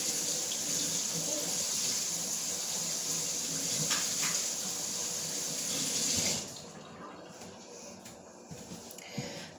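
Kitchen tap running hard as a spoon is rinsed under it, a close, steady gushing stream for about six seconds that cuts off, followed by a few faint clinks and handling sounds.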